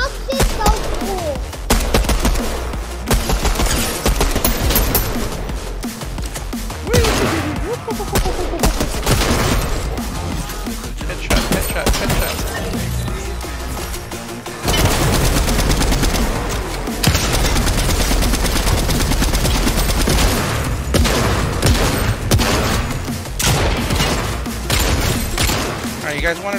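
Dense Fortnite gunfire crackles through a long firefight, bursts of automatic shots and heavy thumps repeating with short pauses, loud and close, with players talking over the action.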